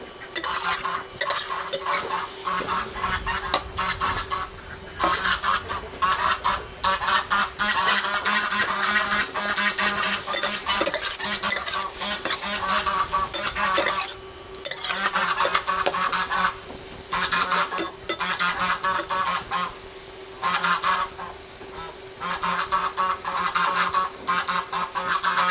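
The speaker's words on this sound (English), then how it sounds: "What I need is to sear the meat first until it's kind of turning white." Pork searing in a hot pan for Hunan braised pork, a loud continuous sizzle with frequent scraping stirs throughout and a steady hum underneath.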